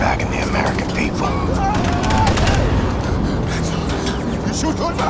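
Rapid gunfire and bursts of shooting from the Wolfenstein II: The New Colossus game trailer, dense and loud throughout, mixed with a busy battle soundtrack and voices talking over it.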